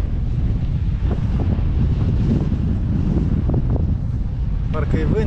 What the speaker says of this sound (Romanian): Vântul puternic